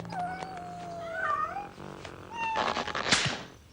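Several cartoonish cat meows and yowls overlap, followed by a burst of hissing and scuffling, close and lively with no speech.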